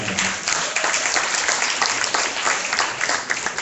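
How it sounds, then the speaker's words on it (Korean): Lecture audience at a wedding planners' association talk clapping, a full burst of applause from many hands, fairly close and sustained with slight swells, no speech heard. "여러분 제 말씀에 좀 공감이 있으면 박수 한번 쳐주시기"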